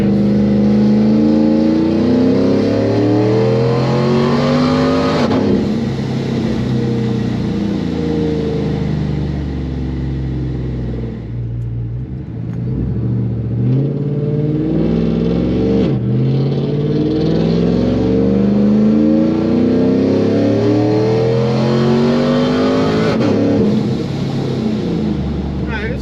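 A loud procharged truck engine revs hard through repeated acceleration runs, its pitch climbing and falling in steady sweeps with shifts, close and dominant throughout, a voice speaking briefly beneath the roar.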